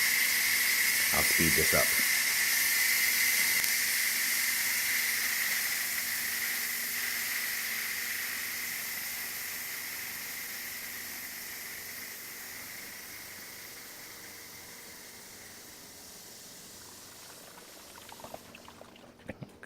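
Steam hisses steadily from the release valve of a Gowise USA 12-quart electric pressure cooker, loud at first and slowly fading over about twenty seconds, with a brief voice and a few clicks near the end.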